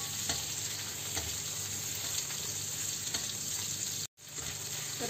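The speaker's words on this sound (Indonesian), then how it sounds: "Ditumis sampai harum." Ingredients stir-fried in a pan for a Chinese-style pork stew in oyster sauce, a steady close sizzle with scraping stir strokes throughout, briefly cutting out near the end.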